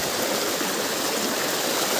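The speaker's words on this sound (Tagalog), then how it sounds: "Sobrang tindi yung lakas ng tubig. Kung mapapansin nyo talaga namang rumaragasa." Strong river current rushing in a dense, steady roar, loud and close throughout, with no voices over it.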